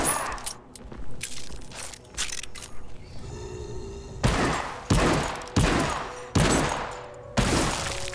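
Loud, punchy gunshots from a weapon in the VR zombie shooter Arizona Sunshine 2, fired as about five separate heavy blasts at roughly even intervals. Each shot is followed by a short ringing decay, with light mechanical clicks and handling noise in between.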